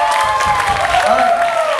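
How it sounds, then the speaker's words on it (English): Brief burst of audience applause and cheering at a campus cultural show contest, loud and dense with voices mixed in. "Give them a round of applause, everybody."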